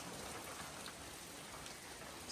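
Steady rain falls on a tent on the Appalachian Trail, a dense, even patter of drops on fabric that continues without pause, close and moderately soft, with no voices.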